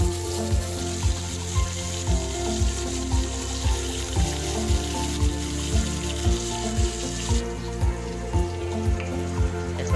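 Oil sizzles and crackles steadily as magur catfish fries with a dense, hissing fry, punctuated by soft regular ticks; no voices.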